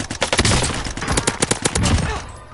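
Rapid, loud video game gunfire in repeated bursts of closely spaced shots, dense and continuous for about two seconds before easing off.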